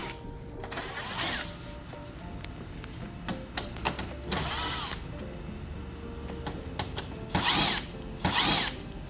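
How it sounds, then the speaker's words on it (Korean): A power drill whirs in four short, loud bursts while unscrewing the screws on the wing panels of an LG Whisen Aroma stand air conditioner, with clicks and handling noises in between. "양쪽 날개에 고정되어 있는 나사를 풀어줍니다."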